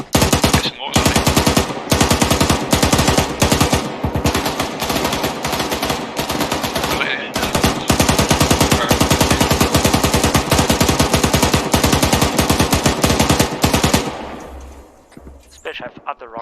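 Dense, near-continuous automatic gunfire with heavy mortar-like blasts in a military video game, loud and close for most of the stretch before thinning out near the end, with voices talking underneath.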